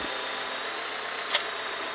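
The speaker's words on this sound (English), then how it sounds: "So this is our little tractor and wagon" A small tractor engine from the mobile game Farming Simulator 2014 hums steadily and evenly at moderate loudness, with one brief higher click near the end.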